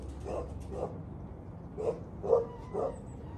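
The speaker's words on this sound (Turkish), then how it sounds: "Ya bir sus köpek ne çok avlıyor ya." A dog barks in short, muffled bursts, a few yips spaced out over a few seconds, somewhat distant and fairly quiet, near pigeons.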